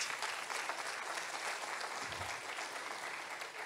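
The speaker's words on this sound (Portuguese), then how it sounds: "Aplaude o teu Deus, aplaude." A church congregation applauds steadily, a dense even wash of many hands clapping at moderate distance with no speech over it.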